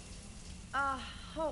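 Hot shower water running steadily in the video game Mass Effect 3, a soft continuous hiss of spray with a voice speaking over it partway through.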